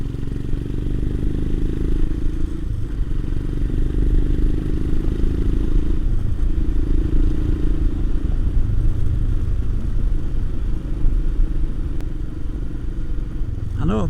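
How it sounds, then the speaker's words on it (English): A Royal Enfield Himalayan motorcycle's exhaust gives a steady, relaxed low beat while riding along. The engine note holds close and continuous throughout, with some wind and road noise. "Lazy beat of the exhaust."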